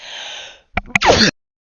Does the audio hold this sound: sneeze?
yes